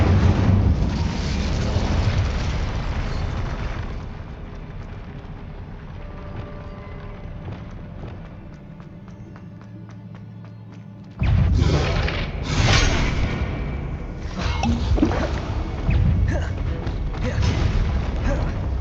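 An Incendio fire spell bursts with booming blasts in the Hogwarts Legacy video game. Loud eruptions open the clip, then quieter mechanical clatter follows before another strong burst of roaring, crackling impacts.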